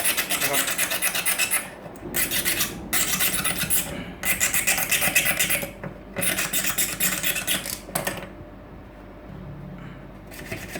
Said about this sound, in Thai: ใช้ตะไบหยาบลงก่อนนะครับ